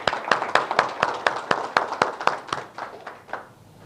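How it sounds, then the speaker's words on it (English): A small audience applauds at a business seminar, with a few sharp, close handclaps coming in a steady beat over a softer clatter of claps, then thinning out and fading near the end. "Give them a round of applause, please."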